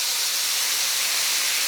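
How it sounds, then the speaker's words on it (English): Red wine poured into a hot pan off the heat makes a steady, bright hissing sizzle that holds evenly throughout, loud and close with no talk. "Now, when you pour alcohol into a hot pan, we want to be safe about this"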